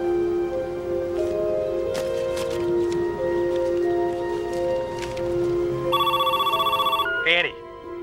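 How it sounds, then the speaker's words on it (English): A telephone rings in a repeated electronic burst pattern near the end, cutting in over a steady musical drama score before a short rising tone. "Answer the phone."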